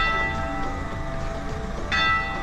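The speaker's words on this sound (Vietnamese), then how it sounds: "4 giờ chiều chuông nhà thờ đổ." Church bells peal at four in the afternoon beside a castle with a wide tulip garden, a sustained ringing wash of overlapping tones that swells briefly near the end, heard at moderate distance with no talk.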